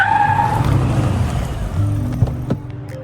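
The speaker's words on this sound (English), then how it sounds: "An actual car appeared" A car arrives in the video game Reign of Nightfall, its engine growling close and loud while the tires skid and squeal, settling down near the end.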